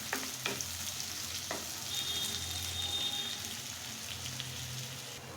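Onions frying in a pan for a shing fish dopiaza, a steady close sizzle with a few soft stirring clicks and scrapes, no voices.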